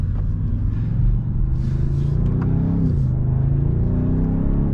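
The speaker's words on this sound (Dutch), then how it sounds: "Kijk even hoe deze brute V8 dit doet." BMW M850i Gran Coupe with xDrive and a V8 engine, in Sport Plus and manual fourth gear at about 80 km/h on the autobahn, gives a loud, steady low engine rumble with road noise that rises slightly mid-way.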